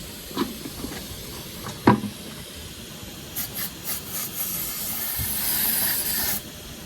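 Brake cleaner hisses from an aerosol can onto the carburetor of a vintage motorcycle that sat unused for 24 years, a few short bursts followed by a longer steady spray, close and fairly quiet with a few handling clunks.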